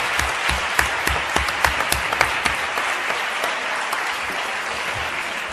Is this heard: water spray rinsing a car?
no